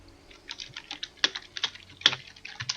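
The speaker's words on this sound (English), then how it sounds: "I think he was typing there." Typing on a computer keyboard during a League-style game scrim, a quick irregular run of close, crisp key clicks with a few louder strikes, no voices.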